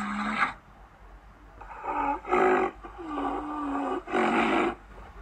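A rhinoceros gives a deep, rough bellow, repeating in several drawn-out grunting calls with short pauses between them, loud and close.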